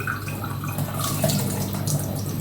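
Oranges are scrubbed with a brush under a running kitchen tap, giving a continuous close hiss of flowing water with soft scrubbing and splashing.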